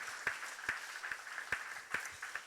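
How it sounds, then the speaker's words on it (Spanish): A church congregation applauds during a Spanish-language sermon, faint scattered clapping with a few sharper claps standing out over a soft, distant room wash. "denle un gran aplauso a Dios"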